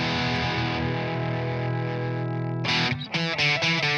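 An electric guitar plays through an amp with the tone control turned fully up, giving a bright, trebly, distorted sound: a long sustained chord, then several sharp, choppy strums near the end.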